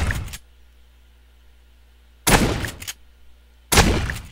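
Gunshots in the zombie survival video game 7 Days To Die: two loud close bursts of fire, each about a second long, separated by quiet with a low steady hum underneath.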